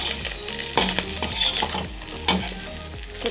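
Pieces of fish frying in oil in a pan, a steady close sizzle with scraping stirring strokes and light clinks of a utensil against the pan, no voices.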